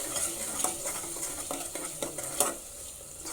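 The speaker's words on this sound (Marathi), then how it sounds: "आता हे मस्त आपण मिक्सअप करून घेऊया" Malvani masala and coriander-cumin powder stirred in a hot pan, a soft continuous sizzle broken by repeated scraping strokes of a spoon against the metal.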